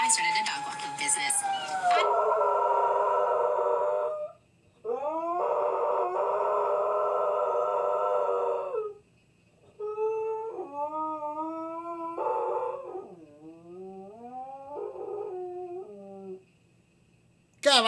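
Dog howling along to a TV commercial indoors, long sustained wailing howls with rising and falling pitch in several drawn-out bursts separated by short pauses, loud and near, with sound from the television underneath at the start.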